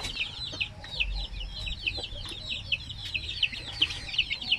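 Chicks and chickens cluck and cheep in a farm setting, a busy run of repeated high peeping calls close by over low rustling, with no voices.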